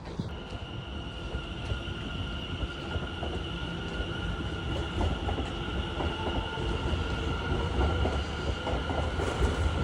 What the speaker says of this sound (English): Who wouldn't like a pathway that has trains running right beside it?